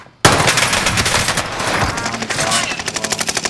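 Rapid automatic gunfire in a video game, a loud continuous burst of shots close by that tails into a distinct rhythmic stutter of rounds.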